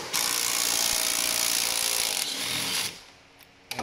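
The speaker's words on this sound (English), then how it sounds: "Get your 10 millimeter socket. Take that off there." A 10 millimeter socket wrench working a wiper linkage bolt loose on a Dodge Ram, a steady loud grinding ratchet-like rasp for nearly three seconds that then stops, followed by faint clicks.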